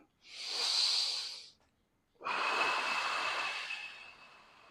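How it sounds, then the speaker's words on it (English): Heavy exercise breathing near the microphone, two long forceful breaths, a shorter rasping exhale and then a longer hissing one after a brief pause. "Breathing."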